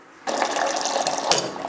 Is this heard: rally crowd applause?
no